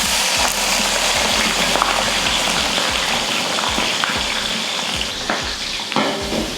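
A large batch of onions, 1.5 kg, frying in oil for chicken biryani: a loud, dense, continuous sizzle like heavy rain, with faint occasional stirring knocks beneath it.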